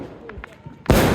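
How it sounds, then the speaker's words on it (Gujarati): Diwali firecrackers burst at a home decorated for the festival, one sudden loud blast after a moment of quiet, followed by a sustained crackling roar. "બહુ મસ્ત ફટાકડા ફૂટ્યા"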